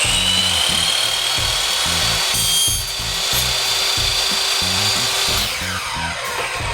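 A saw cuts through a single rail in steady, rhythmic back-and-forth strokes, loud and close, continuing unbroken with no voices.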